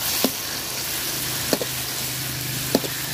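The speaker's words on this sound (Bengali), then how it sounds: "বাটা মশলাটা ভাজা নিব সুন্দর করে আমি" Ground spice paste sizzling steadily in a pan for a Bangladeshi shutki bharta with onions, a soft continuous frying hiss with three brief clinks of a stirring spoon spaced apart, no talking.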